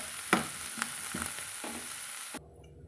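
Cassava masala with turmeric being sautéed in a pan: a close, bright sizzle with several rhythmic scrapes of a spoon stirring against the pan, ending abruptly as the frying noise cuts off.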